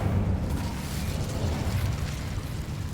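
Incendio fire spell cast in the Hogwarts Legacy video game, a dense, steady roar of fiery bursts with heavy low rumble holding at an even loudness for the whole stretch, no talk over it.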